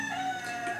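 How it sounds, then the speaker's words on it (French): Countryside rooster giving a short, flat, strained crow, a single sustained tonal call that sounds clumsy and incomplete, fairly close and clear. "vous avez vu à quel point le coq ne sait pas faire cocorico"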